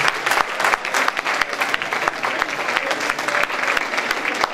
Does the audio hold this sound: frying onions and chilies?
no